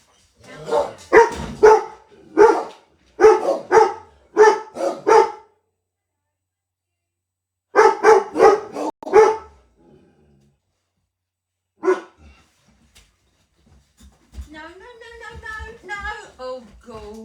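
Dogs barking at someone at the door of a house, loud, close clusters of sharp barks with pauses between, then a lone bark and softer whining toward the end.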